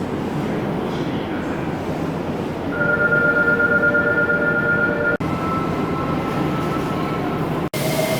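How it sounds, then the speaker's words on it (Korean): Subway train at Hakata Station, a loud steady rumble with high, sustained wheel squeals and tonal whines as the train runs and slows, heard close from inside or on the platform. "역시 지하철은 빠릅니다."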